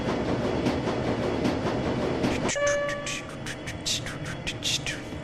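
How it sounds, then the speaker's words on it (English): An underground U-Bahn train in the video game Shadowrun Dragonfall rumbles along at first, then a sustained horn-like tone cuts in and rhythmic clicking clatter follows, loud and close. "Boarding train."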